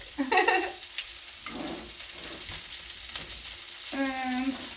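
Breaded shrimp fry in a pan with a steady low sizzle, while a voice speaks briefly at the start and again near the end over the cooking.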